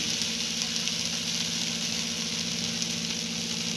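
Oil sizzles steadily around the edges of a besan dhapate flatbread cooking on a hot pan, a close, continuous hiss with no breaks.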